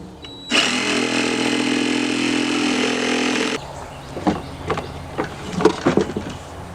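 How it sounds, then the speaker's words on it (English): A Dremel rotary tool cuts through scrap wood for a rabbit nest box, giving a loud, steady high-pitched whine for about three seconds before cutting off, followed by scattered knocks and handling noises. "this is called a Dremel, and it can cut through wood, it can cut through nails and metal and things like that"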